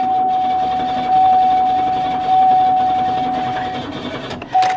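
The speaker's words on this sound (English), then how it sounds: "Yeah, the fuel pump. It's groaning." The fuel pump of a 1970 Chevy Monte Carlo gives off a steady, fairly loud, high groaning whine that drones on without a break, then cuts out for a moment and comes back near the end.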